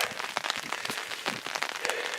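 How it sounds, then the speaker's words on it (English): Rain falls steadily on a vegetable garden with yellow beans, a dense close patter of drops with scattered louder splashes, no voices. "A much needed rain for the garden."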